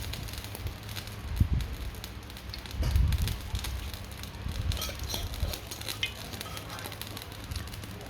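Pounded curry paste hitting hot oil and stir-fried in a wok for a spicy eel dish, crackling sizzle with bursts of scraping stirs, close and fairly loud.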